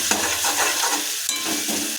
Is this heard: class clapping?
no